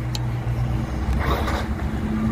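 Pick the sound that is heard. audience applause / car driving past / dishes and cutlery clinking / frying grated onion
car driving past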